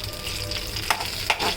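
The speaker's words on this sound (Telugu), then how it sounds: "ఇలా వేయించుకుంటుంటే కొంచెం ఎర్రగా వేగిన తర్వాత" Ingredients for pulihora fry in a pan with a steady, close sizzle, while two brief scraping stirs break through the hiss.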